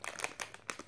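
Plastic bag of salted popcorn being pulled open, a quick burst of crinkly crackles and rustles, close and fairly loud, lasting about a second.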